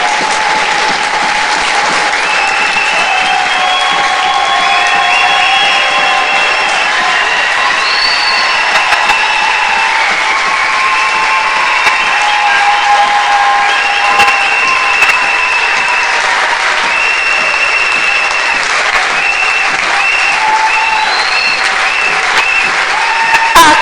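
A church congregation claps for the Lord in loud, sustained applause, with cheering voices and an instrument playing along in the background.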